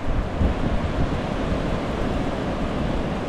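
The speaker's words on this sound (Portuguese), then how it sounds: "Pera aí que a onda tá vindo alta ali, ó." Ocean waves break on a beach along a coastal cycling route, with cold water and a long stretch of sea. The surf makes a steady, loud, broadband roar with wind noise and no clear gaps between breakers.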